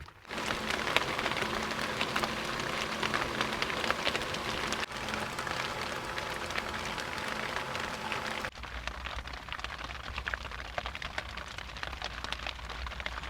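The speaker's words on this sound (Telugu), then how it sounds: "వర్షానికి మేము ఏదైతే క్యాంపింగ్ టెంట్లో అనుకున్నామో ఆ లోపలికి వర్షం వచ్చేస్తుంది" Heavy rain drums on a camping tent at night on the Godavari river, a dense, steady close patter with no voices that shifts slightly in tone partway through.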